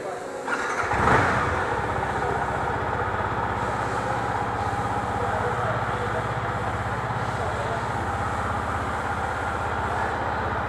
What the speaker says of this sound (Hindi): ये स्टॉक एग्जॉस्ट का साउंड है